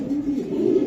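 A racing pigeon from a Bangladeshi racing club coos steadily and close, a low throaty burbling that continues through the whole moment without talking.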